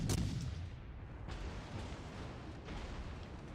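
Warship guns fire in the World of Warships Legends video game: a sharp boom opens, then further heavy shots sound over a dense, rumbling battle bed, fairly faint overall.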